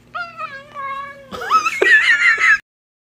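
A house cat meows several times, clear and close with distinct rising and falling calls, ending in a louder, more strained caterwaul-like yowl before cutting off.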